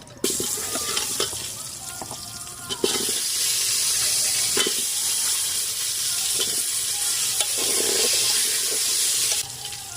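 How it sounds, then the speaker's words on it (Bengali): Potatoes fry in mustard oil in a home kitchen, a loud continuous close sizzle starting abruptly, with occasional spatula taps and stirring scrapes over the steady hiss. "সর্ষের তেল দিয়ে দেবো আজকে চিকেন আমি কুকারে বানাচ্ছি প্রথমে আলু ভেজে নেব"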